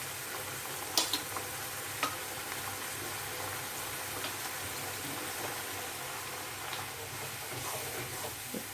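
Potatoes frying with turmeric and spices being stirred in, a continuous soft sizzle with occasional light scrapes and taps of a spoon against the pan, close and steady with no talking.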